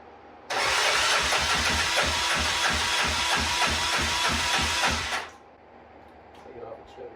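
Honda Fourtrax 300 ATV engine cranking on the starter for about five seconds, a loud, close, rhythmic churning that never catches, then cuts off to quiet with faint handling noises.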